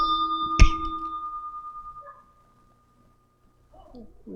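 A bell on a mobile factory machine gives a single bright, clear strike that rings out and fades over about a second and a half. Faint indistinct sounds follow the ring.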